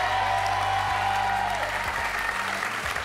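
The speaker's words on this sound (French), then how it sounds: "Je vous demande d'applaudir." A TV talk show studio audience applauds steadily throughout, dense continuous clapping that fills the room at a constant level.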